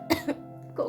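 A child coughs indoors, two short harsh coughs close together followed by a throat-clearing cough a moment later, fairly close and moderately loud.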